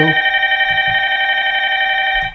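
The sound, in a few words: telephone ringing for a call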